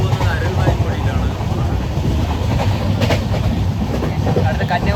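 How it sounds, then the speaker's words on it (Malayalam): Moving train en route to Kanyakumari, a loud continuous rumble and rattle of wheels and carriage with wind rushing past, steady throughout from inside the coach. "സ്ഥലമൊക്കെ കണ്ട് നമ്മൾ ട്രെയിനിൽ നിന്ന് പോവുകയാണ്."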